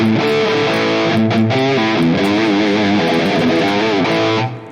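A Harley Benton Fusion 3 electric guitar with stock Roswell humbuckers plays a sustained, overdriven melodic line through a Marshall amp model on a Nux MG-30, with a touch of reverb. It is loud and steady and fades at the end.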